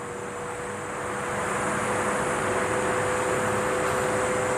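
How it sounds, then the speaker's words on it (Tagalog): An electric fan runs on its number 2 speed setting, giving a steady, loud whooshing hiss with a faint motor hum close to the microphone. It swells slightly in the first second, then holds constant, with no talking. "Lagay natin sa number 2 para mas maingay."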